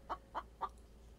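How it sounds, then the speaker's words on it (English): Chicken in the video game The Infected giving three evenly spaced, faint clucks in quick succession against a quiet background. "Probably a chicken since I do hear one clucking."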